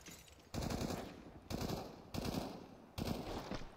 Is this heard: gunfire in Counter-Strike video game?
yes